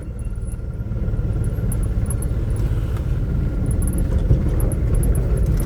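Vehicles creep slowly along a rain-soaked, potholed road on the way from Nashik to Pandavleni, producing a steady, close, low engine rumble with no talking.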